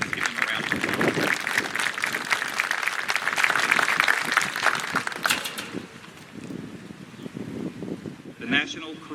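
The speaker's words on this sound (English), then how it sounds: "Give them a round of applause." A graduation audience at Riverside's 2020 ceremony breaks into loud, sustained applause for standing students, then the clapping thins out and fades into room noise with scattered voices.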